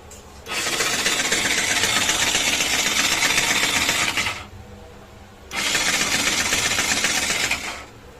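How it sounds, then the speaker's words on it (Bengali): Vehicle with a seized engine that will not start, two long whirring starter cranks of about four and two and a half seconds, separated by a short pause, loud and close with no catch. "আর গাড়ির ইঞ্জিন থেকে কীভাবে সাউন্ড বেরোচ্ছে দেখো"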